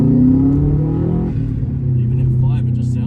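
A Subaru WRX STI Type RA rally replica revs briefly, a loud, rumbling engine note rising and falling up close, with people talking over it.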